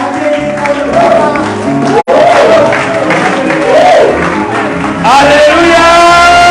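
A church seminar congregation cheers, shouts and applauds loudly to welcome their pastor, a dense crowd roar with excited voices rising and falling throughout, briefly cut off once before surging again.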